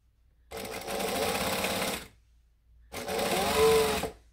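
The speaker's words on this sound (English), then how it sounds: "And then I'm just going to stitch that on. So I'm on a normal stitch length," A sewing machine runs at steady speed in two bursts with a brief pause between them, stitching a seam on a bag with a drop-in lining; it whirs close by with no voices.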